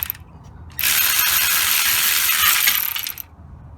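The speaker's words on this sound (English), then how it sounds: "turn the crankshaft again with that ratchet till I get to the other one" A hand ratchet wrench turns the crankshaft of a 2003 Nissan Altima 3.5 during transmission replacement, a loud, close, rapid clicking run lasting about two and a half seconds.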